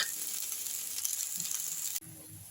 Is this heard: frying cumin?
yes